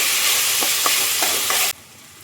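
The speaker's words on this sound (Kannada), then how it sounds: "ಸ್ವಲ್ಪ ಸಾಫ್ಟ್ ಆಗೋ ತನಕ ಫ್ರೈ ಮಾಡ್ಕೊಳ್ಬೇಕು." Chopped tomatoes and green chillies frying in oil in a pan, a loud continuous sizzle broken by several rhythmic scrapes of a spoon stirring, then cutting off abruptly near the end.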